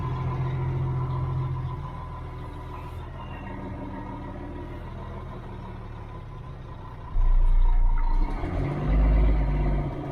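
An old Volvo semi truck engine runs on the road, a low steady rumble of moderate loudness that swells sharply into a heavier, louder drone near the end.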